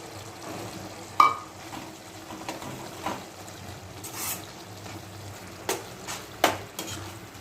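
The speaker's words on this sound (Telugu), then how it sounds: "ఇప్పుడు ఈ పల్లీల పొడి వేసి కలిపేసుకుంటాం" Spoon stirring peanut powder into a simmering ridge gourd and tomato curry, steady soft sizzle with occasional scraping knocks against the pan, close by.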